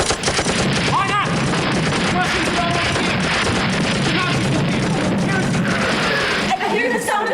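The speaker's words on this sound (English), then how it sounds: "I hear the sound of gunfire at the prison gate." Rapid bursts of gunfire crackle at a prison gate, dense and continuous, with sharp overlapping reports beneath a chaotic, noisy backdrop.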